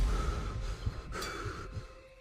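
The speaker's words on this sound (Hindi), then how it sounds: "सुनील जोर जोर से हांफने लगा" A man pants heavily in fear as a horror-story sound effect, with harsh, breathy gasps and sighs over a low rumbling bed, close and moderately loud.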